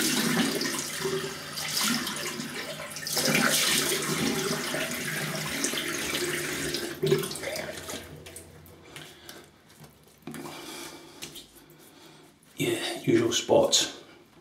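Tap water runs and splashes into a sink as a razor is rinsed, a steady rushing flow that cuts off partway, followed by brief bursts of splashing; a person talks quietly over it at times.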